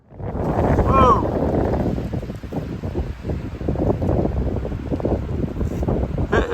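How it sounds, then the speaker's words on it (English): Strong, cold wind on a mountain along the Appalachian Trail buffets the microphone in loud, roaring gusts, a blustery rush that swells and dips throughout. "It is cold and windy"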